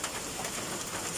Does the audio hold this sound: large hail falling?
yes